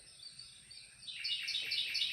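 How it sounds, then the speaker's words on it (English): A small wren sings outdoors, a rapid series of bright, high chirping trills that grows louder and busier in the second half of the short stretch, with no voices over it. "That's a wren. It's a small little bird, but it makes such a racket."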